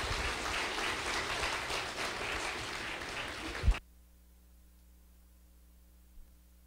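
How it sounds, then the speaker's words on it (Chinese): An audience applauds after a lecture by a lawyer on criminal procedure. Dense, even clapping fills the room for several seconds, then stops abruptly, leaving only a faint electrical hum. "我们再次以热烈的掌声谢谢"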